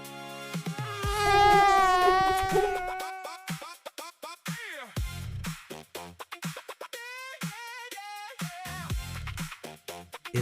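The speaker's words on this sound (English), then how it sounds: "It's a mosquito" A mosquito gives a thin, high buzzing whine that rises and wavers over about two seconds. Bouncy background music plays under and after it.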